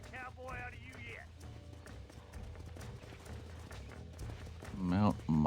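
Horse hooves in Red Dead Redemption clip-clopping in a steady rhythm, close and clear, with voices speaking over them.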